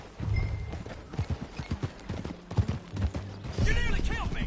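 Horse hooves clip-clop at a steady trot while riding in Red Dead Redemption 2, with creaking tack, a brief whinny near the end and some game speech in the background.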